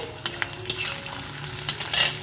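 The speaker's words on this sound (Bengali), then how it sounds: "আলুর সাথে খুব ভালো করে ভেজে নেবো আলু আর ফোড়নটা যখন ভাজা হয়ে যাবে যখন আমাদের এই সর্ষেগুলো ফাটতে শুরু করবে" Potatoes fry with mustard seeds in hot oil for a bitter gourd curry, making a close, continuous sizzle broken by a few sharp spluttering pops and stirring scrapes.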